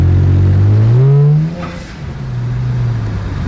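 A close, fully built BMW engine revs up with a rising whine while driving, eases off, then pulls again with a rough, throaty growl.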